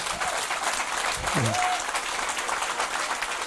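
Congregation at a church service applauding the Lord, with loud, sustained clapping throughout and a brief voice or tone rising over the crowd partway through.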